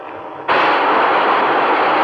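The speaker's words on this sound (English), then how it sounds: "That sound you just heard was the decompression." Submarine decompression aboard the U.S. submarine Sea Lion before a dive, over a radio broadcast: after a faint background hiss, a sudden loud rush of air bursts in and holds steady as a dense, even roar.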